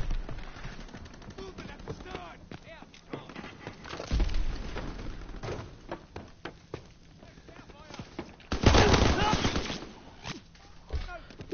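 Pistol gunfire from a World War II era Call of Duty game, rapid sharp shots in bursts with two loud clusters, mixed with game effects and other sounds.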